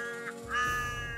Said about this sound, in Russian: И про что каркают вороны?